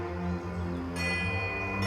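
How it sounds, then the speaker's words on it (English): Delicate silver bells in the video game Pillars of Eternity II ring in the wind, sustained shimmering tones that hold steady, with a brighter cluster of chimes joining midway over a soft airy bed. "The chill breeze becomes a howling gale, and the tide of ringing bells sweeps you off your feet."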